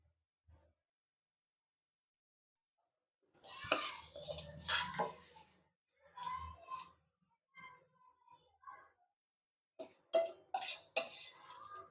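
Utensils clinking and scraping as a spicy Kathiyawadi dish is served, in short clusters of metallic taps and scrapes separated by quiet pauses, close and moderately loud.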